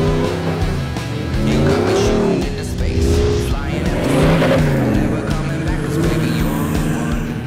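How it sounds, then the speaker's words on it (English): Big V8 engines of off-road four-wheel drives rev and roar continuously through the outing, loud and rumbling with rising and falling throttle under a busy outdoor background. "you gotta love the sound of those big V8s"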